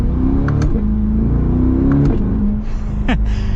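A Chevrolet C8 Corvette Convertible, mid-engined, pulls away from a standstill on a cold day. Its engine note climbs steadily in pitch, drops briefly at a gear change, then climbs again, loud and close throughout.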